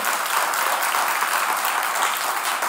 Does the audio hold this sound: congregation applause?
yes